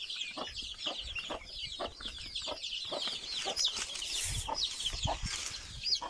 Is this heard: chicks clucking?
yes